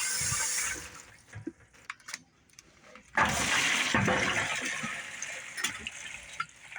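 Water pouring into a dirty container to soak, starting as a hiss, dying down, then a loud steady gush of running water, with no talk.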